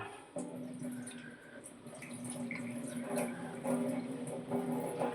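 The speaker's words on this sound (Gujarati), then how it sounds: "આ રીતે પાણી કાઢી નાખવાનું." Water drains off soaked chana dal in a kitchen, a steady splashing trickle like a running tap, close and moderately loud with no voices.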